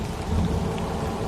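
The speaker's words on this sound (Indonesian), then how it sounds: "Malam itu, hujan turun dengan derasnya." Heavy rain pours down steadily in a dense, continuous wash with a deep rumbling undertone like distant thunder, loud and close, with no voices.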